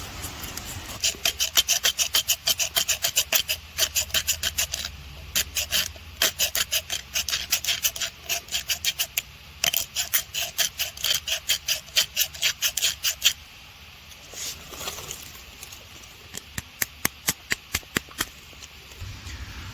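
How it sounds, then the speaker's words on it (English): An empty lighter held upside down has its flint wheel rolled back and forth, giving a long run of rapid, close, raspy grinding strokes in bursts, with a brief pause before the scraping resumes. "hold it upside down like this and move the wheel back and forth and grind some of that dust"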